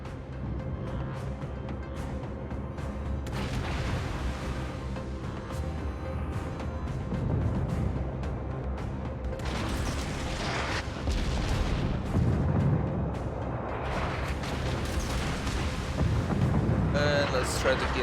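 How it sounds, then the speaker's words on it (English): Torpedoes launch from the German Tier II destroyer V-25 in World of Warships, heard as deep booming thumps and bursts over a steady rumble of engine, wind and sea, with louder swells midway and near the end. "we're gonna do some torpedo launches"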